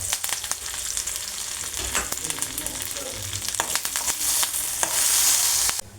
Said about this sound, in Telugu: పోపు వేసుకుంటున్నాను